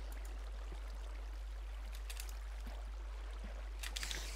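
Water flows in Minecraft, a faint, steady wash with a low hum beneath and a few small splashes near the end.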